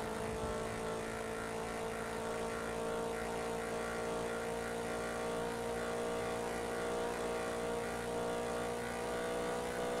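A car engine revs in GTA V NoPixel roleplay: a dense, loud, unbroken roar with a steady droning tone that holds for the full ten seconds.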